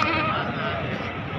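Goat bleating at a livestock market in Khairpur, a loud, strained, wavering cry close by, lasting over a second amid busy market background noise.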